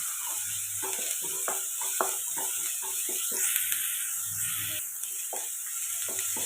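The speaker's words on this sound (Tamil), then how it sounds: "இதில் வந்து கொஞ்சம் இஞ்சி பூண்டு பேஸ்ட் போட்டுக்கலாம் இதே இதோடு சேர்த்து வதக்கலாம்" Ginger garlic paste sautéing in a pan for a tomato kurma makes a continuous close sizzle, broken by a quick series of spoon scrapes and stirring clatters.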